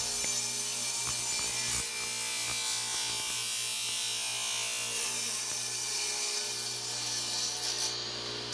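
A saw cuts excess wood off a handmade wooden cat dish stand with steady, continuous rasping strokes, close and loud, with no talking.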